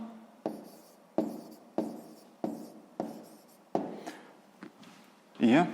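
A pen writes down the answer to a sixth-grade math exercise, scratching out a steady series of short strokes that rise sharply and fade in a loose rhythm, close up, with a brief voice-like sound near the end.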